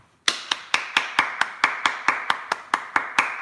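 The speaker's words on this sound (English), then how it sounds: "Hand clap for the pastor church." Steady, evenly spaced hand claps ring out about four per second, crisp and close, more like a single person or small tight group clapping in rhythm for the pastor in church than a large scattered audience.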